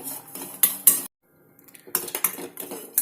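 Thinly sliced coconut frying in a pan, with metal utensil scrapes and clinks against the pan in bursts, a short quiet gap partway through, and no talking.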